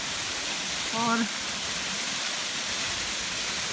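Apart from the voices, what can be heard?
waterfall at Lohari, Barot Valley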